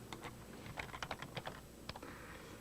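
Rapid, uneven keystrokes tap on a computer keyboard while typing a Google search, close and fairly quiet, with clustered clicks and a few louder strikes and no voices.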